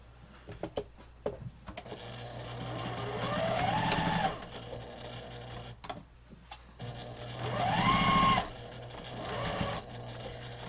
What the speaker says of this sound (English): so you're going to sew this piece on first